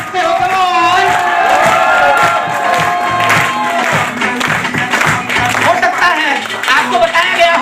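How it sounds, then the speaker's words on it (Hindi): A crowd at a motivational business gathering claps and cheers loudly and continuously, with shouts and whoops over dense applause while an amplified voice speaks through it. "दिल खोल के तालियां बजा सकते हो।"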